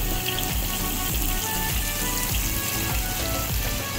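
Bitter gourd stir-fries in a hot wok, a loud, continuous sizzle and crackle with rhythmic scraping strokes of the spatula every half second or so, no talking.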